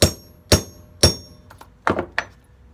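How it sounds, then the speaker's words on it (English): Copper rivets are hammered into a leather double bit axe sheath, five sharp hammer strikes at a steady half-second rhythm, close and distinct, with faint handling noises between them. "we're going to go ahead and rivet that straight on over"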